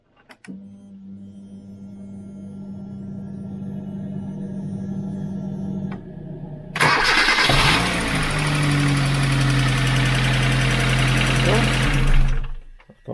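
A 2007 Kia Cerato, freshly fitted with a new ignition lock and key set, cranks and catches, roaring up loudly and then settling into a steady idle after several seconds of quieter background hum.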